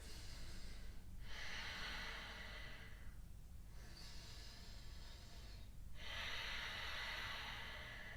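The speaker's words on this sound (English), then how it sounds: "focus on your breathing" Slow, deep breaths during a beginner yoga class: three long airy inhales or exhales separated by short pauses, close and steady, with no talking.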